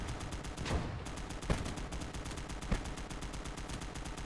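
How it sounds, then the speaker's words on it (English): Machine gun fire in the video game Gates of Hell with the Pacific Conquest mod, a rapid, even stream of shots with a few louder cracks, steady and fairly close throughout with no talking. "Is that the machine gun?"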